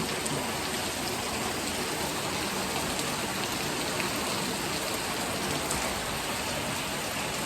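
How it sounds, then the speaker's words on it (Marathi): Steady, dense rainfall pours down without pause, a constant hiss with no voices. "आता पाऊस लागतं"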